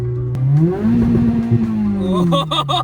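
A Ferrari engine revs up loudly close by, rising in pitch and then falling back, with a few sharp bursts near the end.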